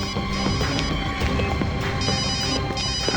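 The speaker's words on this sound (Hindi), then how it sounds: "सर, घंटी बज रही है।" A mobile phone rings from a parked car amid busy, noisy surroundings, its repeating electronic ringtone rising faintly through dense background clatter.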